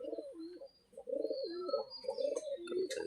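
Pigeons cooing on a poultry farm where some sit on eggs, several rolling coos repeating close by over about three seconds, with faint higher chirps in the background.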